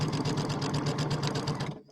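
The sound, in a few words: sewing machine stitching after needle drop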